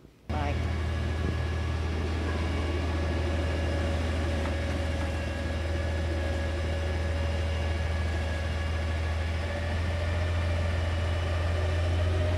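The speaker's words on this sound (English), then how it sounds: "So Ray can control the engine through here for the engine speed, how much vacuum pressure, vacuum suction" A vacuum truck's engine runs at a steady, loud idle, a continuous low drone with a constant hum that holds unbroken through the whole stretch from just after the start.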